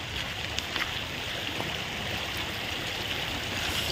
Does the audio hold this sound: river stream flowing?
yes